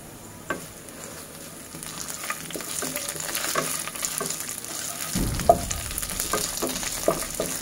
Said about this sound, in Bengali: এখন পেঁয়াজটা আগে আমি ভেজে নিব